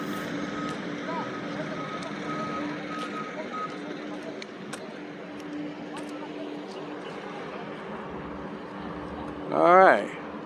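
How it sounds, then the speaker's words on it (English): Backing truck at a downtown tree removal job, a steady electronic reversing beep repeating under a constant engine drone and street noise, with a louder, sharper burst near the end. "He's fixing to back up this way."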